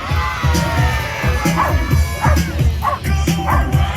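Dogs bark and yip repeatedly in short bursts during a dog show at a summer fair and exhibition in Yorkton, Saskatchewan, loud and close, with crowd noise running underneath.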